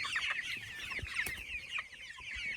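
Chickens cluck steadily with a rooster among the flock, close by and continuous, with occasional low thumps and shuffling underneath.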